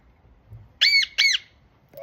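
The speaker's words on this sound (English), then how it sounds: "You making baby bird noises?" A bird gives two short, shrill squawking chirps in quick succession, like baby bird calls, close and clear against a quiet background.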